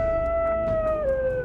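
A drawn-out, steady howl from the Howl skill in the grimdark RPG Maker game Woe Reigns Unending, loud and tonal, sliding slightly lower near its end over a dense game soundscape.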